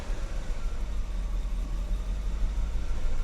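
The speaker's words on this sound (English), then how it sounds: "Okay, we'll go back down to idle." A Mercedes 560SEC idles steadily with a low, even rumble, close and constant, with no other sounds over it.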